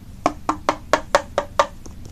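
Knocking at a door, eight crisp, evenly spaced raps in a quick steady rhythm, close and clear over a quiet background.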